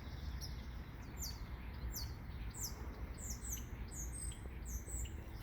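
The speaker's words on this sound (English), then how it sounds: "Listen to all these different calls." Grackles and other birds call and chirp in the morning, a steady series of high, sweeping whistles and squawks repeating overhead above constant low background rumble.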